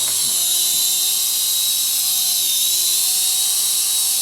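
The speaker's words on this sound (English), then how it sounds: "This is the indoor flight of the new Syma S6 Nano helicopter." Syma S6 Nano toy helicopter hovering indoors, giving a steady, loud, high-pitched rotor and motor whine that holds throughout with only slight pitch wavering.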